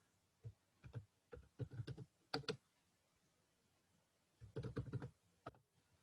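Bursts of close computer-keyboard typing while entering a student examination record into a form, clustered clicks in two flurries separated by a short pause, crisp and alone with no talk.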